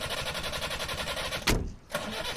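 A vehicle engine in a Telugu film fight scene cranks and catches with a sharp burst partway through, then runs on steadily, close and fairly loud over a constant mechanical drone.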